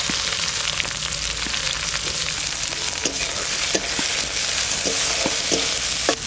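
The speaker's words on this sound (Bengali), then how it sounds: "পেঁয়াজটা একটু ভাজা ভাজা হয়ে গেছে" Onions sizzle in mustard oil with cumin in a pan, a steady close frying hiss broken by occasional clicks of a spoon stirring, with no voices.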